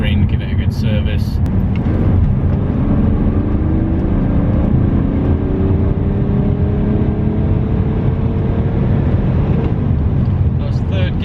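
A BMW E92 330d diesel car with about 200,000 miles accelerates hard in third gear, its engine note rising steadily from a low drone to a higher pitch, heard from inside the car with continuous road and wind noise.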